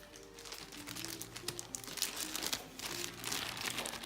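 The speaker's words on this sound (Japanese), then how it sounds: "親指でちょっと力を入れればこの辺ですね、プチッと切れますので" Paper tape for stretching watercolour paper torn by hand with the thumb, a near, crinkly ripping and crumpling that comes in several short bursts across a few seconds, with no talk.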